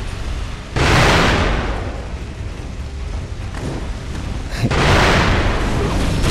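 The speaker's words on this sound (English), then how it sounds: "He likes to spam his firecrackers on this fight for some reason." Firecrackers thrown by a boss in Sekiro go off as two loud, crackling bursts of noise several seconds apart, each one fading into a rumbling wash between them.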